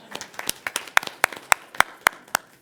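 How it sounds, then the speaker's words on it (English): Hands clap in a steady rhythmic beat at a city council meeting in Savannah, Georgia, about ten sharp, close claps spaced roughly a quarter second apart with lighter claps from others between them. "You can clap with him."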